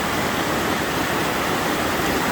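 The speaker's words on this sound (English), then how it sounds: "It's known as creek. But when you take a look at it, it's pretty ferocious." Rushing mountain creek, ice-cold snowmelt water with a ferocious current, making steady, loud broadband white rush with no pauses, close to the microphone.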